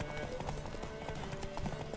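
Rhythmic clip-clop of a horse's hooves galloping in the video game The Witcher 3: Wild Hunt, steady and quiet beneath the game's background sound.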